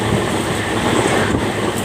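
A moving passenger train rumbles steadily, with continuous wheel and carriage noise and faint clickety-clack heard from inside the coach, with no voices.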